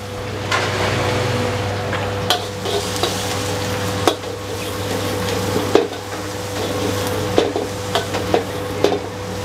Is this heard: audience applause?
no